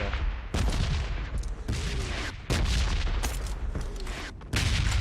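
Repeated gunfire from the battle royale game PUBG Mobile: loud bursts of shots and booms come in several clusters with brief gaps between them, close and dominant throughout.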